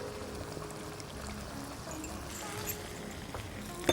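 Onion juice poured into minced-meat pilaf cooking in a pot, a soft steady trickle of liquid running for several seconds at low level, ending with a small clink.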